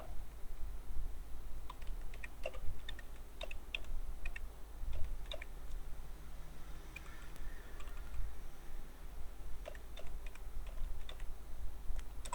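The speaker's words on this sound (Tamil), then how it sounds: "நான் தமிழில் டைப் பண்ணிட்டேன்" Someone types in Tamil on a computer keyboard during an online voter ID application. The clicks come in irregular bursts with pauses between them, close to the microphone and moderately quiet over low background hum.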